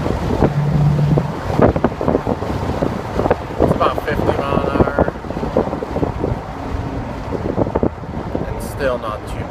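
Wind buffets and roars loudly around a convertible C7 Corvette driving with its top down, a continuous gusty rumble with an engine hum underneath.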